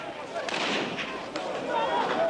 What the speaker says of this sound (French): quelques coups de feu qui ne changent rien